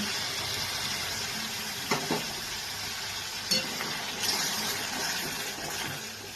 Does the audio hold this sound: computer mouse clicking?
no